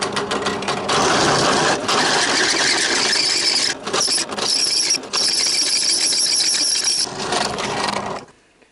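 Metal drilling with a 12.3 mm drill bit while making a puller for removing a Toyota Camry cylinder head: a loud, steady high-pitched whine and squeal lasting several seconds, with brief dips, then stopping abruptly.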